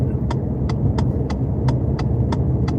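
Truck engine in Euro Truck Simulator while overtaking a small assistance truck, a loud, steady droning rumble with a regular ticking clicking over it, close and continuous.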